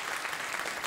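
A studio audience claps steadily, a dense wash of many hands at moderate volume throughout, with no voices over it.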